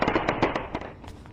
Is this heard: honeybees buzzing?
no